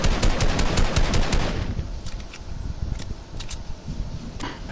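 Rapid automatic gunfire bursts in a Fortnite duos match, loud and close at first, then sparser scattered shots over a noisy background.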